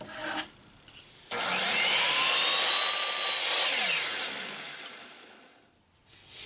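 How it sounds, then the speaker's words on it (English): A chop saw cuts a wooden piece to length: a sharp burst as the blade bites, then a loud sustained whining rasp for about three seconds that fades as the cut finishes, close and alone. "we'll cut it off with the chop saw"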